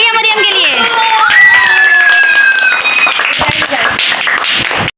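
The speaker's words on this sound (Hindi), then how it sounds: "तालियां मरियम के लिए।" A crowd claps and cheers loudly and steadily for the winner of a children's competition prize, with children's shouts mixed in and a voice speaking over the noise.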